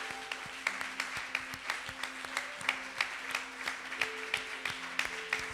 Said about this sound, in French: Acclame pour le Seigneur, acclame pour le Seigneur